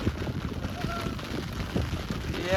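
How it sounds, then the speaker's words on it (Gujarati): Rain falls outdoors, a rough, steady patter mixed with a person talking close by. "વરસાદ આવે છે"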